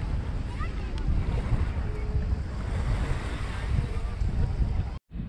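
Waves on the shore at Bengala Beach on the Tuscan coast make a constant rushing surf with low rumbling wind buffeting the microphone, fairly loud and steady, ending in a brief dropout.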